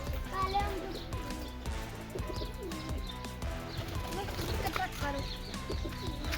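Large border pigeons coo in soft, repeated throaty calls, close by, with a few chirps mixed in and faint voices in the background.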